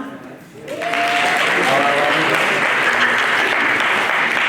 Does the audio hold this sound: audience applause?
yes